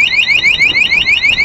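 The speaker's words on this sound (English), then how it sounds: "See, the alarm goes off," Aftermarket alarm on a 2007 Yamaha R6 motorcycle set off by its shock sensor, blaring a loud, close, rapidly repeating rising electronic whoop with no talk over it.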